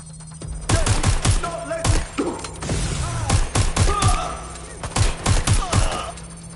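Rapid, loud gunfire from the video game Watch Dogs: Legion, with repeated sharp shots and bursts in quick succession, along with thuds and some voice sounds mixed in.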